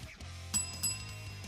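A bright bell dings twice in quick succession, ringing clearly over a low, steady background hum.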